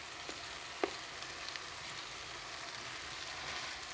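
Grated carrots fry in a pan with a steady, close sizzle, broken by a few soft clicks or stirring taps, with no talking.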